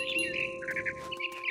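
Birds chirp in the video game What Remains of Edith Finch, a quick run of bright, high tweets and trills repeating over a soft steady tonal background, close and clear with no speech.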